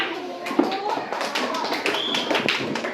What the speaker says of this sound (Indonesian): Ini tepuk tangan untuk kelompok 1